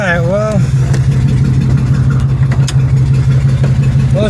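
A 2006 Pontiac Grand Prix engine running with a misfire, a loud, low, uneven throb that pulses irregularly under a voice speaking close by.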